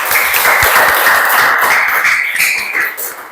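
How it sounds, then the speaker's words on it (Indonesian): A classroom of students claps for a classmate about to read a poem aloud, a dense burst of applause that tapers off after about three seconds. "Beri tepuk tangan dulu buat Lisa"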